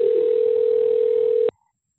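Conference phone in a meeting room, a single steady electronic call tone sounding loud and unbroken for about a second and a half before cutting off abruptly into silence.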